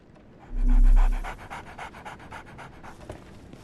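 A dog pants in quick rhythmic breaths, close and steady, with a brief low whimper-like tone near the start, in a Sherlock Holmes The Awakened game scene.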